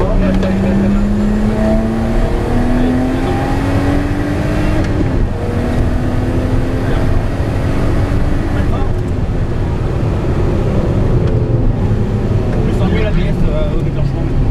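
Rally car engine on a stage, climbing in pitch as it accelerates under heavy throttle, loud and continuous with road and cabin rumble, while a co-driver talks over it.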